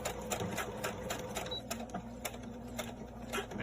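A sewing machine stitching elastic onto a washable medical mask, running in close, fast rhythmic bursts of needle clatter with brief pauses and no talking.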